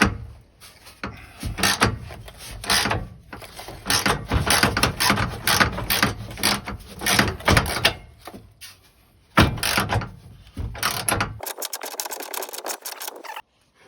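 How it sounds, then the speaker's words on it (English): Bolts on a diesel fuel tank strap are undone with a power tool, in repeated loud mechanical bursts and rattles with brief pauses, then a thinner buzzing run near the end. "Here we're undoing the bolts."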